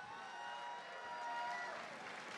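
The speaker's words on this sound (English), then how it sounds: "a big round of applause, please," A dense, even patter of applause from a crowd at a cage fighting event, sustained throughout and swelling slightly near the middle.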